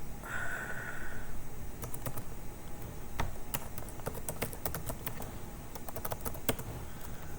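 Fingers typing on a computer keyboard while editing in Vim: an irregular run of sharp, close key clicks with brief pauses, over a steady low background hum.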